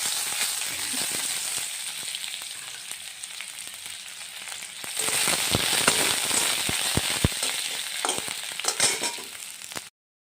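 Onion and panch phoron sizzling in hot oil for lentil dal, a steady crackling fry with scattered pops that swells louder midway, close and continuous until it cuts off abruptly.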